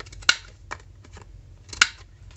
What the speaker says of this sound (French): je prends ma perforatrice avec mon coin A et je viens couper les coins du haut